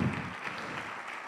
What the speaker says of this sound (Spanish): Vamos a darle un aplauso a estas mujeres que son mamás, papás y trabajan.